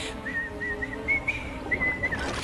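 Someone whistles a short, bright melody of several sustained notes with small gaps between phrases, clear and close, in an animated cartoon.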